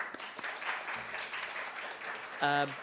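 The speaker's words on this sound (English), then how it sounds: "Let's give them a round of applause." An audience at a library book-prize event applauds steadily, a soft wash of many hands clapping, while a voice speaks briefly near the end.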